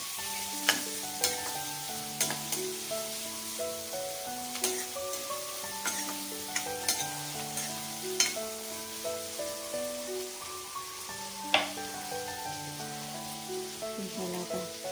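Potatoes with cumin sauté in a pan, a steady close sizzle and frying hiss with intermittent scraping stirs and clinks of a utensil, and faint voices in the background.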